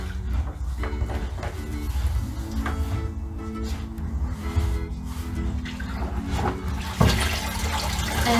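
Running water splashes steadily while rinsing a white horse's tail in winter, a continuous wet rush with a brief louder splash near the end, fairly close.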